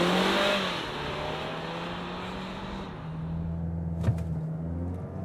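A Mazda CX-60 SUV accelerates hard from a standstill toward 120, giving a sustained engine drone whose pitch climbs slowly and steadily, with a brief thump partway through.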